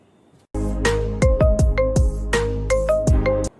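A telephone ringtone plays loudly and alone, a bright melodic electronic tune of quick repeated notes lasting about three seconds after a short quiet start.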